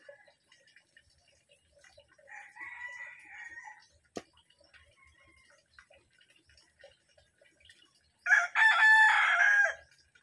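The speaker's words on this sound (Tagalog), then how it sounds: "Nagkainan ng manok guys." Chickens being fed coconut meat, with soft scattered clucks and pecking sounds, a single sharp tick, then a louder rooster crow near the end, mostly quiet between calls.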